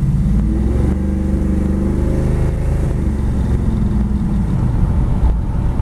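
A 1956 Chevy 210 post with a 502 big block V8 rumbles through a slow U-turn, its deep loud engine note steady and close with slight swells of throttle throughout.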